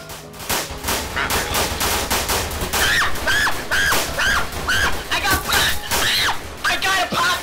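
A popcorn gun firing in a shooting video game, a loud rapid string of repeated shots in a steady rhythm, with excited voices over the gunfire.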